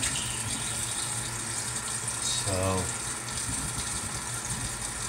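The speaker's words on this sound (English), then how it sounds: "I just add water in here until it just covers everything." Water pouring into a pot of menudo ingredients, a steady splashing gush that swells briefly midway, with someone talking over it.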